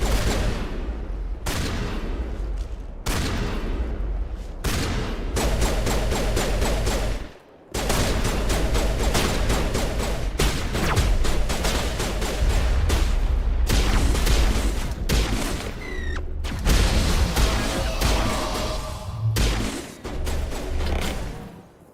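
Sustained gunfire crossfire and turret fire in a Mass Effect 1 battle on Virmire, loud dense volleys and bursts with brief pauses, booming impacts mixed in, continuous for the whole stretch.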